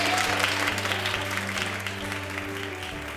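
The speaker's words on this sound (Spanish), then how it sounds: "Un aplauso fuerte." Loud, sustained studio-audience applause on a Spanish television quiz show as team scores are announced, dense clapping that fades slightly toward the end over a low steady hum.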